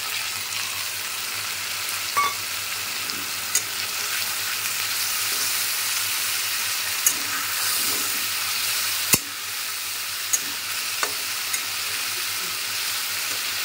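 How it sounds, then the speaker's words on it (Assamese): Spice masala fries in a pan during a simple home vegetarian meal, giving a continuous loud close sizzle with scattered light stirring clicks and one sharp tap near the middle, and no voices. "অকণমান মছলা ভাজ খাই লওক"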